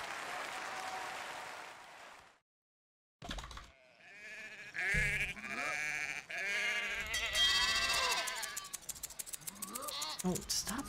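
Sheep bleating in the Rayman Raving Rabbids video game: several wavering bleats overlap with busy game music and effects after a brief silent gap, close and loud, ending in rapid repeated clicks.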